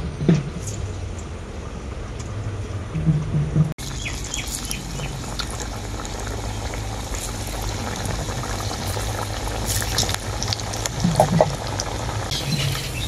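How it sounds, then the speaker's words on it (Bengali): Flattened onion pakoras sizzle in hot frying oil, a dense crackling bubbling hiss that runs steadily, briefly interrupted near the start, with sharper pops scattered throughout. "এরপর যেগুলো আমি চ্যাপটা চ্যাপটা করে নিয়েছিলাম এগুলো তেলে ভেজে নেব।"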